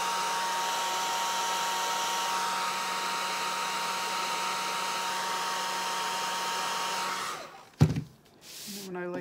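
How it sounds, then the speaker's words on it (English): A hair dryer blows with a steady whooshing hum for several seconds while drying alcohol ink paint, then cuts off abruptly, leaving a brief clatter and low rumble. "Hair dryer."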